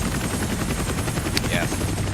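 A helicopter in The Division Resurgence whirs continuously in a brief, steady rotor drone, with a few sharp gunfire-like cracks and speech mixed in.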